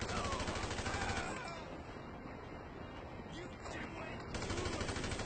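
Gunfire during a police chase in a video game, rapid bursts of shots running under continuous engine and wind noise, with no talk over it.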